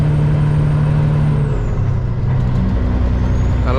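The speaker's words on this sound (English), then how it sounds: "I'm gonna go ahead and drop a gear." A semi truck's diesel engine drones loudly and continuously while climbing a Virginia mountain, with the engine note shifting partway through as the driver drops a gear.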